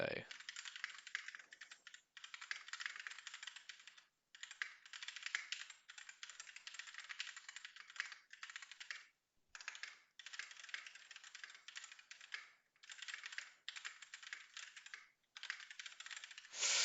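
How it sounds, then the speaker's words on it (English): Someone types rapidly on a computer keyboard, the close clicking keys running in quick bursts separated by short pauses. The typing is fairly quiet, with nothing else heard. "I'm going to be quiet whilst I type this"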